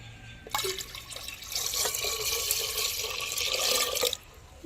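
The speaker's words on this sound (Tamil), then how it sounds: "இதுக்கு தேவையான தண்ணியை ஊற்றிக்குவோம்." Water pours steadily in a continuous splashing stream for around three and a half seconds, close up, starting and stopping abruptly, while making mor milagai (buttermilk chillies).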